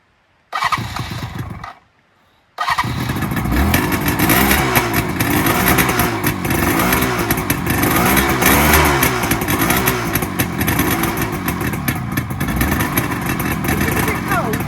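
A Suzuki GT200 X5 two-stroke motorcycle engine is started on a cold snowy day, catching after a brief gap, then idles and revs loudly up close with a raspy, buzzing two-stroke beat, with some talk underneath.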